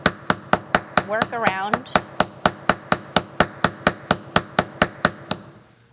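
A hammer tapping an eyelet set on a bench block while finishing a jewelry cold connection: about twenty crisp, evenly spaced light strikes, close and fairly quick, with brief talk over the early taps.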